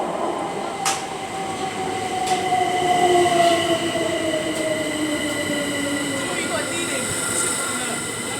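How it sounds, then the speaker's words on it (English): A Govia passenger train runs along London rail tracks, a steady close rumble with a rising whine and faint squeal, rail clicks at intervals, and a voice speaking briefly over it. "And it's a normal Govia train."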